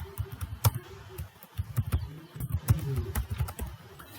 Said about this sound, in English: Now let us type the text that we want to write.